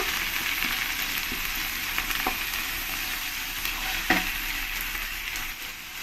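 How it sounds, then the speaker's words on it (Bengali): Onion paste frying in hot oil with already fried onions, stirred in a pan; a steady close sizzle with a few scraping stir strokes, no talking. "পেঁয়াজ পেস্টটাই দিয়ে দেবো দিয়ে ভালো করে আমি এই পেঁয়াজের সঙ্গে মিশিয়ে নেব"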